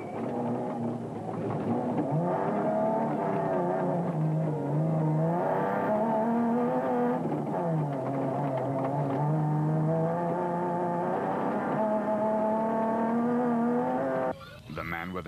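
Rally race trucks, a Nissan Navara 4-litre and a Toyota Hilux, drive hard, their engines roaring and revving steadily with rising and falling pitch through gear changes, loud and close, under commentary talk.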